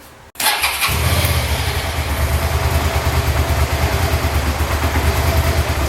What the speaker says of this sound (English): hook up the fuel line and the rest of the hoses and plugs and see if we can get it to start.